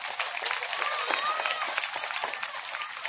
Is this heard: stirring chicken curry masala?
no